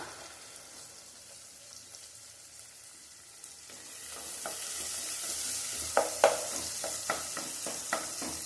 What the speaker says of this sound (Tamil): இப்போ தக்காளி நல்லா வதங்கணும், அதுக்காக உப்புத்தூள் சேர்த்துக்கிறேன்.